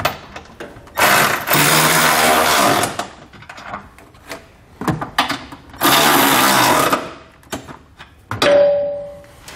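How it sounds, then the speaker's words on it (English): A power socket tool tightens trailer hitch bolts on a 2019 Mazda CX-5, with three loud whirring bursts of a couple of seconds each, separated by clicks and clunks of handling, ending on a short tonal whine. "With all of our hardware in place and hand tight, you can then grab a socket and snug it all down."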